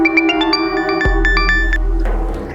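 A phone ringtone plays a bright, chiming electronic melody of quick tones, loud and close, cut short by a low thud partway through, followed by a brief softer rustle, with no speech.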